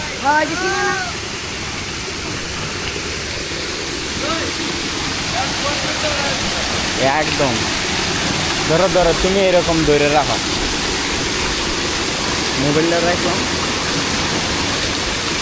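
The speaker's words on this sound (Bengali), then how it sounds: "গাইস আমরা একদম লালঘাট ঝর্ণা যেটা বলে ঝর্ণাতে কাছে আছি" Lalghat waterfall roars in a steady, dense rush of falling water that fills the whole stretch, while people nearby talk over it at close range.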